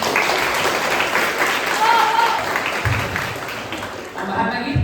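A school class audience applauds after an eleventh-grade sociodrama performance, a full crowd clapping loudly and steadily, with brief voices and thumps underneath as it fades slightly.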